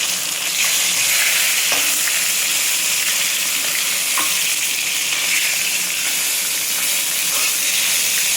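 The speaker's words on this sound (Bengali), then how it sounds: "দেখো মাছটা কেমন ভাজা হচ্ছে।" Parshe mullet fish fries in hot oil in a pan for a Bengali fish curry, giving a loud, dense, continuous sizzle with no talk.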